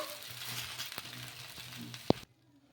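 A puffed rice dosa frying in oil on a hot pan, steady soft sizzling with a sharp clatter as it is flipped near the end, then quiet, close-up and without voices.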